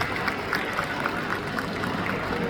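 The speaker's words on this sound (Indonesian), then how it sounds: "Kalau boleh yang paket A berdiri sambil tepuk tangan semuanya." Audience applause at an anniversary event held at a university, a dense steady patter of many hands clapping throughout, with crowd murmur underneath.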